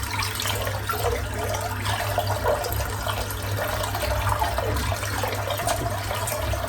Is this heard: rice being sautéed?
no